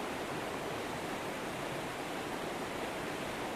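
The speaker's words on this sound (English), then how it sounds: "with the sounds of the river" A river flows steadily downhill, a continuous broadband rush of water with no breaks or voices, moderately quiet and even throughout.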